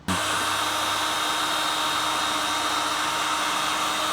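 Steady whooshing hot-air blast from a heat gun shrinking a waterproof glue-lined heat-shrink wire connector for Porsche Cayman S parking sensor wiring; loud, continuous and even from just after the start, with no talk.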